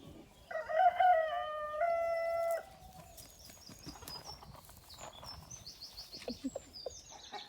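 A rooster crows loudly once up close, followed by softer bird calls and chirps in the background.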